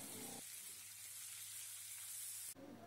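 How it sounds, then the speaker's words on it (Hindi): Curry leaves, red chillies, mustard and cumin frying in hot oil, a faint continuous hiss of sizzling with brief louder crackle at the start and end. "ये सभी चीज़ें डालने के बाद हम इसे अच्छी तरह से मिला लेंगे, इन्हें स्टर कर लेंगे ताकि अपना फ्लेवर ऑयल में रिलीज़ कर लें"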